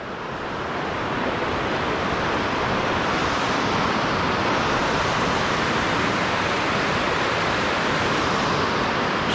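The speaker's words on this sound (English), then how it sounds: "Some pretty strong rapids there." Strong river rapids near Taupo, New Zealand rush in a loud, unbroken roar of churning water, steady throughout with no voices.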